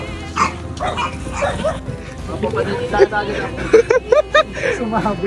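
A dog barks and yips repeatedly in short bursts, mixed with lively chatter from several people nearby.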